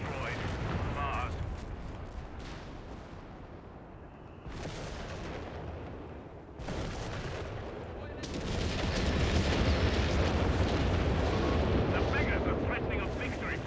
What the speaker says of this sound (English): artillery's at least stopping the Germans, made them go back up